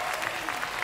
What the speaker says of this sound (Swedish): Tack som fan för den applåden.